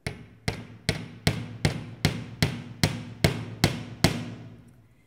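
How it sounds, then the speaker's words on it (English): A jewellery hammer gently taps round jewellery wire in an even rhythm, about eleven light, ringing strikes roughly every 0.4 seconds, each decaying quickly, close and clear with no talking. "gently tap it and stroke it out as you go."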